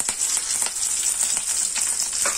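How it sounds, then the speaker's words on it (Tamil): Mustard seeds and curry leaves sizzle in hot oil for an anchovy fish roast, a dense bright crackling hiss with a few sharper pops, close and steady throughout, no voices. "எண்ணெய் கடுகு ப்ளஸ் கறிவேப்பிலை ஆட் பண்ணியாச்சு."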